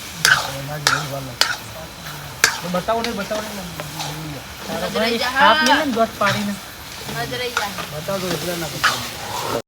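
Paneer goes into a hot pan for paneer bhurji, sizzling steadily while a spoon scrapes and stirs, with several sharp clanks against the pan and a voice talking over the cooking.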